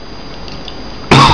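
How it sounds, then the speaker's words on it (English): Near silence broken at the end by a single loud, close cough. "pardon my cough"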